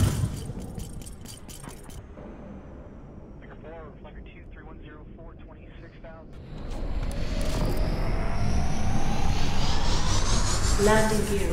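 A spaceship in the SpaceBourne 2 video game lifts off. After a quieter stretch with faint voices and electronic chirps, a loud engine roar swells in and holds steady, rising in pitch.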